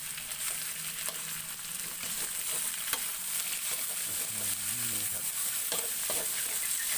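Loud, continuous sizzling of chilies and aromatics stir-frying in a hot wok for beef kaphrao, with scraping stirs and clanks of a utensil against the pan.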